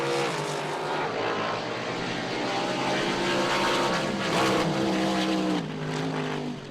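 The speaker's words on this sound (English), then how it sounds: "You heard him working the throttle down there" Drag boat engine at a Lucas Oil race in San Angelo, throttle worked up and down in a loud, continuous roar with shifting pitch from a moderate distance, no talk.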